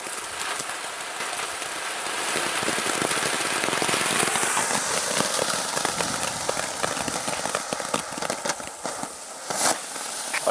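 A four-color fountain firework by Komet burning at dusk, a steady hissing, sputtering spray that holds for about ten seconds with faint crackles near the end, heard alone at moderate distance.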